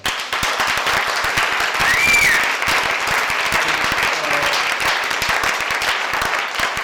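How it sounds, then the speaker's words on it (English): Audience applause for a guest at a talk about a photographer, a steady dense clapping from a crowd that carries on for the whole stretch, with a brief swell near the start and no talk over it. "Could we all have some applause for Mr. Ken McCluskey then?"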